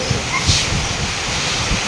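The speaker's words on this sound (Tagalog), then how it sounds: "Sobrang lakas ng ulan." Heavy typhoon rain and gusting wind from Typhoon Aghon make a constant roaring wash, with low buffeting rumbles and wind hitting the microphone.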